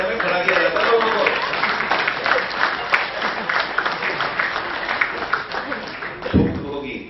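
A stand-up comedy audience claps in a steady, dense patter that runs the whole stretch, while a voice keeps talking over it.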